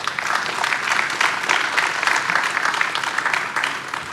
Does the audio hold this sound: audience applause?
yes